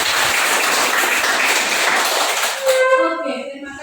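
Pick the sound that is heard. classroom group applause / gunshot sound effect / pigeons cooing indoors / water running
classroom group applause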